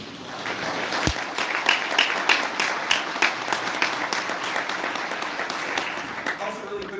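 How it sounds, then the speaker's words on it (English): A conference audience at an education summit applauds community organizations with a steady round of clapping, individual sharp claps standing out, while talk runs faintly underneath. "Can we give our community organizations a round of applause?"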